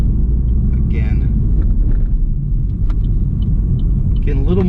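Inside a 2015 Camaro Z/28 cruising at night, a deep, loud engine rumble drones steadily with brief speech-like bits of sound over it.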